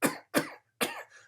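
A narrator voices a cough for an audiobook, imitating a fit: three sharp, close coughs in quick succession, the last trailing into a rough, breathy rasp.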